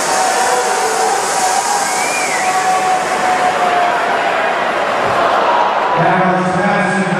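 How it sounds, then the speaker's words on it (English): Football game crowd in a stadium roaring and cheering as a steady, loud wash of noise throughout, with a brief swell near the end; no clear talk over it. "you hear the crowd getting into it"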